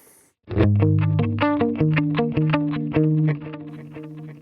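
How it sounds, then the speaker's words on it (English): A distorted electric guitar plays a quick picked riff through a delay pedal with ducking, close and loud, with sharp rhythmic attacks and echoes that swell as the playing stops. "they should just make that delay pedal its own plugin"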